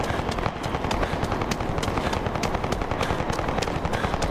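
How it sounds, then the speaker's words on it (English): Continuous rapid gunfire in the Ashes of Creation video game, dense automatic bursts crackling without pause at steady volume. "There's just gunfire going off."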